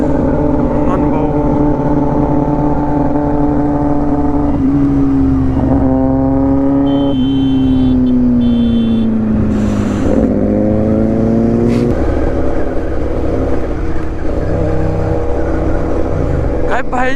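Sports motorcycles on a Sunday group ride, including a Kawasaki ZX-10R, BMW S1000RR, Kawasaki Z900 and Royal Enfield GT650, rev loudly and steadily up close, their engine pitch rising and falling.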